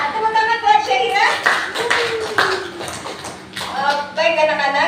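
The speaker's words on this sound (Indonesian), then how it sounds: "Tepuk tangan buat Syahira." Classroom applause as a group of schoolchildren clap for a classmate, a few seconds of close, steady clapping mixed with children's voices.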